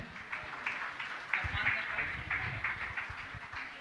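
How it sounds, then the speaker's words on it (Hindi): Audience claps in a hall during an honouring ceremony at a religious discourse gathering, a sustained rattle of applause that swells slightly partway through, with a voice talking over it. "आप लोग सदन में तालियां बजाते रहें"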